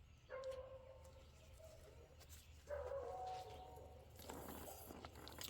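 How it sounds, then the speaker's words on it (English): A neighbor's beagles bark and bay outdoors, heard at some distance and fairly faint, in a few drawn-out bursts over low background hum near a gutter installation. "I'm sorry about the barking dogs."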